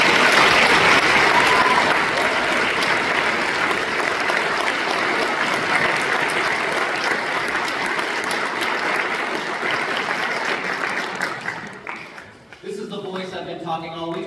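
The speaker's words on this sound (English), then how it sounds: "Can we get another round of applause?" A large audience applauds at a district honor band concert, the clapping loud and sustained for about twelve seconds before thinning out, with faint voices and tonal sounds emerging at the end.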